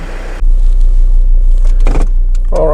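A 2012 Volvo V70 D3 diesel with a repaired boost leak sets off for a drive, with a loud, steady low engine rumble starting abruptly and a few brief clunks and rattles over it.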